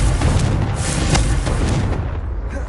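A Confringo blasting spell explosion erupts as a loud, dense roar with a sharp crack near the middle, sustained through the whole clip before thinning slightly at the end.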